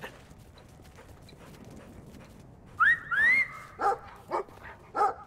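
Dog barking in the video game Brothers: A Tale of Two Sons, a few sharp barks and a whine-like whistle spaced over the last couple of seconds after a quiet ambient stretch.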